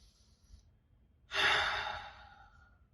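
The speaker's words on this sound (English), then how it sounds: "Take a deep breath." A single deep, audible breath, drawn in and slowly let out like a sigh, close and alone against quiet background.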